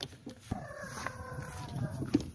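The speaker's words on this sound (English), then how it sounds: "Let's go let some chickens out." Chickens being let out of a backyard garden coop cluck and call in short irregular bursts at close range, with soft background noise and no talk.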